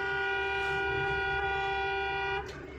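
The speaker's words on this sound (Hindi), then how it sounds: "लगातार मैं हॉर्न दे रहा हूँ कि सामने से जो गाड़ी आ रही हो थोड़ा दाएं बाएं हो जाए लोग।" A car horn on a highway sounds one long, loud, steady blast that cuts off near the end over low road rumble.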